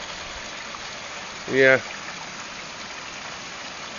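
Water rushes through a sluiceway off a river as a steady broadband wash, with a person briefly saying a word partway through.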